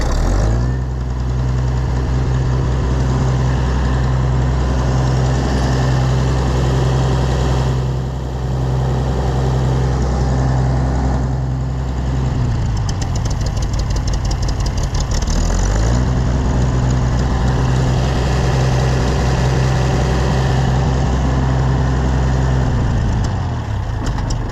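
Oliver 770 tractor engine running with its choke out right after a carburetor install, a loud steady idle with a deep throbbing low drone that briefly dips and changes tone midway before settling back, close by with no talk.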